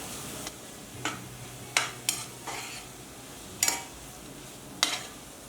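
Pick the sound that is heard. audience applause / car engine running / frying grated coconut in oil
frying grated coconut in oil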